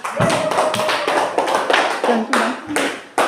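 A class of children claps hands in a lesson on human needs, sharp irregular clap bursts mixed with young voices chanting or calling out over the clapping.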